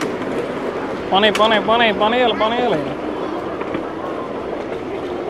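A steam train in Germany moves with a steady, close rolling rumble, while someone talks loudly over it for a couple of seconds.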